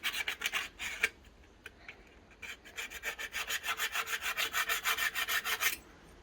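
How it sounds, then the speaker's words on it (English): A scriber scratches a line across a Range Rover panel, close rasping strokes repeated in quick even rhythm, a few separate scrapes first and then a longer steady run before stopping. "I'm just going to put that and scribe a line."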